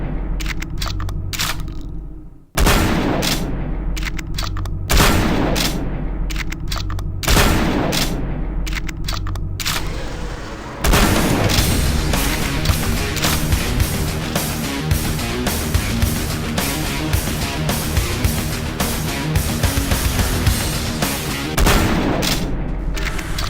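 Heavy shotgun-like blasts from a powerful weapon in Doom 3, several loud booming shots spaced a few seconds apart, then a dense continuous roar of gunfire and combat noise.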